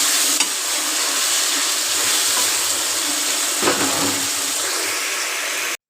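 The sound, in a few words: tomato frying and sizzling in pan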